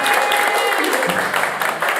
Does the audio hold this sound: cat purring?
no